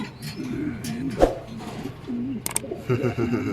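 A racing pigeon gives soft throaty coos, close by, in short repeated bursts with a few faint chirps and background noise between them.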